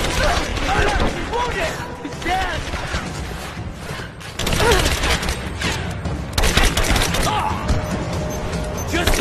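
Heavy gunfire in a PC shooter game, with dense overlapping shots and clatter under shouted voices and a busy battle din throughout.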